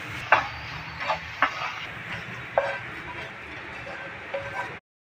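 A spoon works through a thick mixture of milk, chhena, milk powder and coconut for kalakand laddu, giving soft scraping strokes and several sharper knocks against the pan at irregular intervals, close and moderately quiet.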